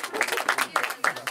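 A small crowd at an outdoor freestyle rap battle final on a cold night claps in uneven, rhythmic bursts, close and fairly light, with voices mixed in.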